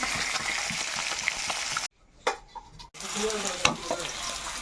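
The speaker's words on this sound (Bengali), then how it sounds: "আলু ভাজা হয়ে গেছে, মাছ এক পাশে তুলে নিচ্ছি আলুগুলো।" Potatoes and fish sizzling in oil in a wok, continuous frying hiss with spatula scrapes, briefly dropping out to near silence in the middle before resuming.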